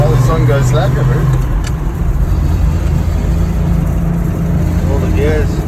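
An old Ford F-Series pickup, its brakes and clutch needing repair, drives with a loud, close engine rumble that rises and falls with revving, while voices talk over it.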